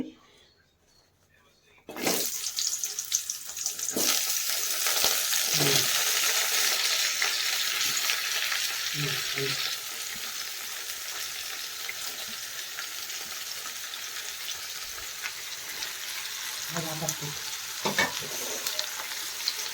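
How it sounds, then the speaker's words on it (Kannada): Coconut, ginger, garlic, coriander leaves, cinnamon, cloves and fennel hit hot oil after a quiet start, bursting into loud steady sizzling with intermittent scraping stirs; a voice talks at times over the frying. "ನಾನು ಇವಾಗ ಎಣ್ಣೆಯಲ್ಲಿ ಫ್ರೈ ಮಾಡ್ಕೋತೀನಿ"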